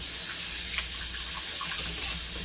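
Hands washed under a running kitchen tap, a steady close rush of water with faint splashes that lasts the whole time, no voices.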